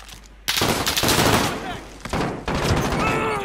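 Video game gunfire in bursts, loud and close, several volleys of rapid shots with brief gaps, with a voice talking over it.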